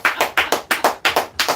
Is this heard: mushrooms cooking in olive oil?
no